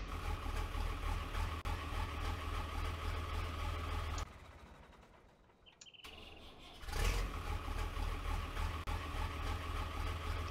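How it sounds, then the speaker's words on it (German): A Fiatagri 90 Series tractor engine in Landwirtschafts-Simulator 19 drones steadily, cuts out briefly with a short mechanical whir, then starts up again and settles into a low, continuous idle. "Machen das auch mal aus und starten den Motor."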